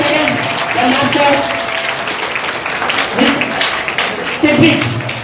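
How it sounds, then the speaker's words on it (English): An audience applauds at a school Rubik's cube game during National Mathematics Day celebrations, loud continuous clapping from a crowd with voices talking over it. "Please give them a round of applause"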